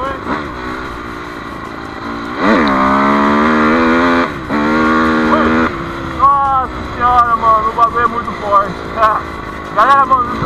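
An imported motocross motorcycle revs hard, its engine note climbing in a sustained pitch sweep before dropping, then firing off a string of short, sharp throttle blips up close.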